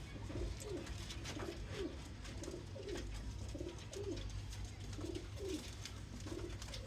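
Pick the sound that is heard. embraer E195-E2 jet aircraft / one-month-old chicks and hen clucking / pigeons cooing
pigeons cooing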